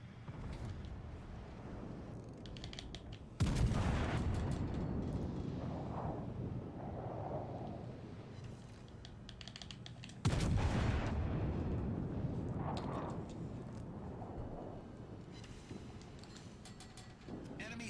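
Heavy naval guns boom twice in World of Warships Legends, each blast loud and close with a long rumbling decay, separated by several seconds of low ambient roar.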